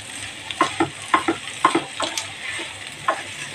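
Mashed potato samosa filling is stirred in a hot pan over medium heat, with a run of scraping, slapping spoon strokes about every half second over a steady close sizzle.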